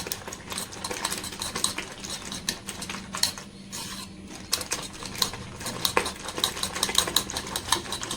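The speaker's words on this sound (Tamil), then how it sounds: "ஸோ இப்போ நல்லா பீட் பண்ணிக்கலாங்க" Spoon beating eggs in a bowl for a masala omelette, a fast, continuous run of close clinking and tapping strokes against the bowl with a brief pause midway.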